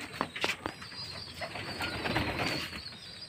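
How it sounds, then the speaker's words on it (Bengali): Pigeons coo softly in a low, throaty rhythm while pigeon chicks call with thin, high peeps, a few quick sharp calls early on followed by a steady murmur of cooing, fairly faint and close by. "এই যে পায়রার বাচ্চাগুলো ডাকছে"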